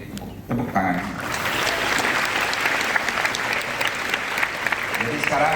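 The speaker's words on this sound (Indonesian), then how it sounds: "Tepuk tangan." Sustained audience applause at a climate summit in Indonesia, a dense wash of many hands clapping that starts abruptly after a brief quiet moment and holds steady, with faint voices mixed in.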